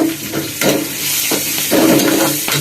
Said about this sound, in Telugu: తాలింపు లేదా తాలింపు కరివేపాకు తినడానికి బాగుంటుంది అనమాట. వేగనండి